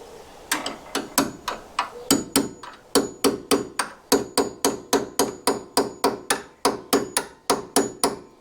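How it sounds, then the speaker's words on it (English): A chisel is struck into the back of a metal clamp on a Land Rover, giving a fast, steady run of loud, sharp metallic hammer blows, about two or three a second, close by with no talk. "is just donk a chisel in the back of it, and it opens up the clamping part"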